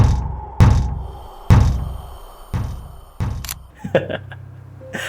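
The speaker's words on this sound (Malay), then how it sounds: "Korang tahu pocong ketuk pintu macam mana?" Several loud, hard knocks strike a door one at a time at a slow, uneven pace, each one a heavy thump. A faint buzzing hum joins in near the end.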